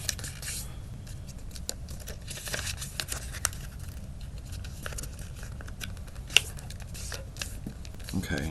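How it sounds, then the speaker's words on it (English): Origami paper being folded by hand for a climbing bug model: soft, close crinkles and scraping creases come in short bursts over a quiet background. "So fold it up like this."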